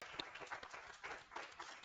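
Applause for the speakers at an interior design masterclass. A small audience claps briefly and softly, with scattered claps and a faint murmur of voices.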